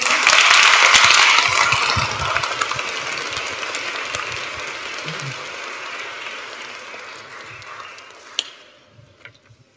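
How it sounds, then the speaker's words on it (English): An audience at a school Year 6 leavers service claps, loud and dense at first, then thinning and fading over several seconds to a few scattered claps. "Let's give it a round of applause."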